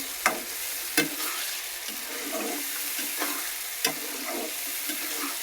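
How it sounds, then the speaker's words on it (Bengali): Chicken coated with biryani masala and sour yogurt sizzling in a pan on a rainy day, a continuous close hiss punctuated by several sharp scrapes and clinks of a stirring spoon against the pan. "দিয়ে ভালো করে কষিয়ে মাংসটা ভাজা ভাজা ভুনা ভুনা করে নেব"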